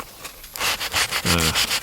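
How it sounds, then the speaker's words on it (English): Rough, rhythmic rubbing of sandpaper on the stile and rail edge of a wooden door, several short back-and-forth strokes close by, loud and scratchy. "you don't scratch your panel when you're sanding your stile and rail edge"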